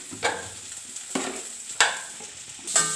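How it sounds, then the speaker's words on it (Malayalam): Chili powder and coriander powder are stirred into a vermicelli chicken biryani mixture, with about four distinct scraping strokes of a spoon against the pan over a light sizzle. "ഇനി ഇതെല്ലാം കൂടി നമുക്കൊന്ന് മിക്സ് ചെയ്യാം"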